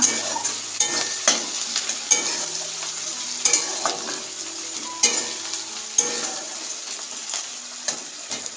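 Onions fry in a pan with a little salt for a Bengali-style broccoli dish, giving a constant bright sizzle broken by regular scraping strokes of a spoon stirring them, close and loud.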